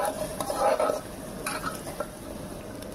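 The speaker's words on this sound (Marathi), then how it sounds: "तर कांद्याला आपण लाल करून घ्यायचं आहे।" Onions frying with cumin in a pan, a soft sizzle under scraping stirs of a spoon against the metal, with a couple of brief clinks, fairly faint and close.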